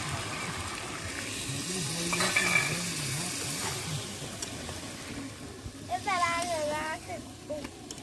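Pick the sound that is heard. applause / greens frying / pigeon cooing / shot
greens frying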